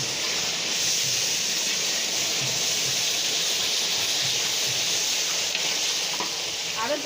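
Water is poured onto frying spices while khichuri cooks at a festive gathering, giving a loud, steady hiss and crackle of sizzling that lasts throughout.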